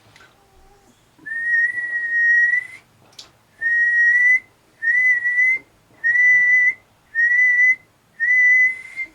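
A steady whistle is sent into a Midland CB radio on single sideband and comes back as six evenly spaced, clear tonal bursts, preceded by a brief spoken word.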